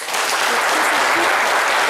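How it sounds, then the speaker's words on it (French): A short burst of warm audience applause, dense and steady clapping from a studio crowd at close range, lasting just under two seconds without any voices over it. "on l'applaudit très fort"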